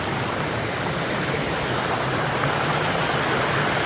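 An active river in a hidden spot rushes along in a constant broadband wash of flowing water, steady and fairly close, with no voices over it.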